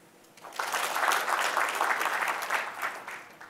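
An audience in a team-building talk claps on request, the applause starting after a brief quiet, swelling into a dense, lively patter and then thinning slightly toward the end.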